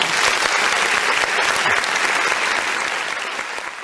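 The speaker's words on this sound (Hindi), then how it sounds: "उनके सम्मान में जोरदार तालियां बजाएंगे" Loud, dense applause from an audience honouring a company producer at an event, steady and close throughout, easing off a little near the end.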